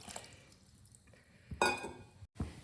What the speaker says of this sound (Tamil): கத்திரிக்காய் வேக வச்சோம் இல்லையா, அந்த தண்ணியை ஊற்றிக்கலாம்.